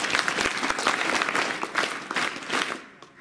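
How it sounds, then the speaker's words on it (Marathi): An audience at a Save Girl Child village gathering claps for the village: loud, continuous, close-sounding applause with no talk, thinning and fading out in the final moments. "आपण गावासाठी टाळ्या वाजवूया"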